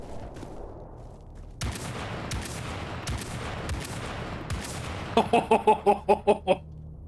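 Rifle fire in the S.T.A.L.K.E.R. Anomaly video game: several sharp single shots over ambient noise, then a rapid rhythmic series of about eight close reports near the end.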